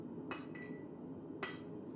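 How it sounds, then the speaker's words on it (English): A hammer strikes the spine of a steel knife blade held over the edge of an anvil while forging, giving a few sharp, widely spaced metallic hits over a low steady background hum. "put it over the edge of the anvil and hammer on the spine to isolate where the blade is"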